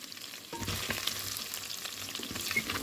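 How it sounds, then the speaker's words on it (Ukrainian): Meat sizzles and crackles steadily in a hot pan, a soft continuous frying hiss with occasional pops, fairly quiet and close. "Бачите, воно вже почало в мене підсмажуватись"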